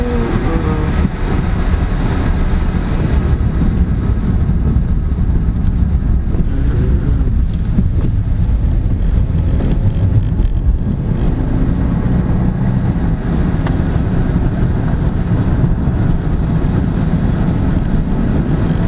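Steady low rumble of a car driving, heard from inside the cabin, with constant road and wind noise filling the whole stretch and no talk over it.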